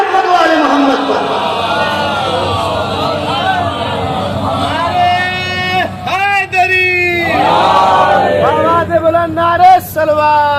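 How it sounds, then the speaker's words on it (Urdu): A large mosque congregation at a Muharram majlis chants salawat together, a loud, sustained wall of massed voices with rising shouted phrases, swelling and dipping in unison throughout. "صلوات پڑھے محمد والے محمد پر۔"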